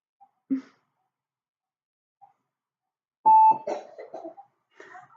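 A single sharp cough early on, followed by quiet gaps, a brief beep, and then a short cluster of coughing and throat sounds from children near the end, indoors with iPads and computers.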